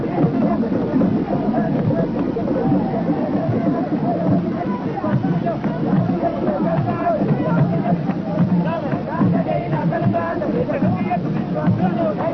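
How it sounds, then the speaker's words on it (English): A dense crowd roars and murmurs steadily throughout, surrounding a procession of horse riders, musicians, dancers and showmen at the Nadin Sarkin Zazzau, with a low rumbling undertone beneath the continuous hubbub. "amidst cheering crowds"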